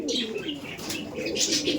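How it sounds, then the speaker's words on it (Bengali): A Kaldom pigeon coos steadily in soft, repeated throaty calls, close and alone, with faint chirps above. "এটা কালদমও পায়রা আছে"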